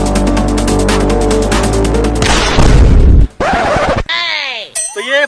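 A comedy-sketch bomb explosion: a loud, sustained crash and boom with rumbling debris, then a sudden cutoff followed by swooping, warbling tonal effects.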